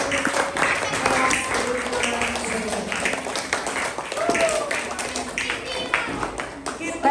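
Students in a classroom clap at the end of a lesson, a brisk scattered round of claps mixed with voices and chatter, fairly close and lively.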